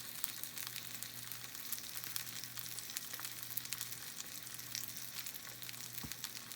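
A steak sizzles in a cast iron pan as it is flipped, a steady, even hiss of frying that holds throughout at moderate level, with a faint thump near the end and no voices.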